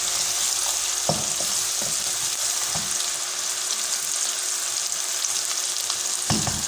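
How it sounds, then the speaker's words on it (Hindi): Tomatoes frying in a pan for sarson ka saag, a steady bright sizzle throughout with a few soft clinks of a utensil against the pan, close and continuous. "इसको थोड़ी देर तक अच्छे से भून लेते हैं जब तक कि ये टमाटोज बिल्कुल गल ना जाए।"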